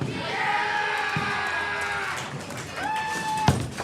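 Distant crowd at a high school bowling match, Perrysburg vs. Napoleon, rising in cheers and shouts under a commentator's voice, with a sharp pin-like crack near the end.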